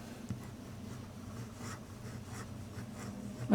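The nib of a Hongdian N7 fountain pen with a long-blade architect nib scratches softly across paper in short, quiet strokes, close up, ending with a brief louder bump.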